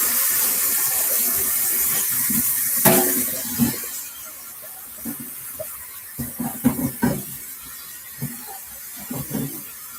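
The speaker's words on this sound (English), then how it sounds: "I'm gonna just rinse this cutting board real quick." Tap water runs steadily as a cutting board is rinsed at a kitchen sink, a close broadband hiss for the first few seconds, followed by scattered clatter and knocks as the board is handled.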